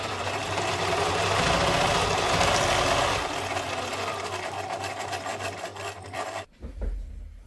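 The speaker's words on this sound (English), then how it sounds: "I want to try to sew in between of his eyes." Sewing machine stitching through a spiderweb paper ephemera piece for a Halloween junk journal, a loud continuous close-up run for about six seconds, slightly slowing, then stopping with a few handling knocks.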